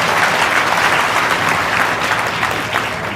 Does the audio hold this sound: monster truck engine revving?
no